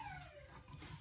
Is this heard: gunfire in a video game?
no